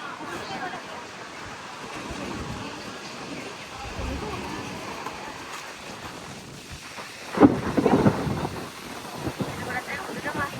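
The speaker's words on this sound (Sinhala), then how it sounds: "ඔන්න අපි හොඳටම වැස්සකට වුණා." Heavy rain with thunder hisses steadily as a broad wash, with a loud rumble around the middle. Wind buffets the microphone and people talk faintly throughout.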